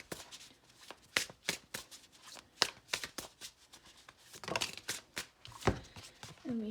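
Tarot cards being shuffled by hand: close, crisp riffling and flicking in uneven bursts and snaps, steady throughout with no talk.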